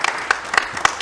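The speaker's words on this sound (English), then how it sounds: "Please give us a round of applause." Audience applause at the close of an academic session, heard as a short burst of scattered, moderately close claps.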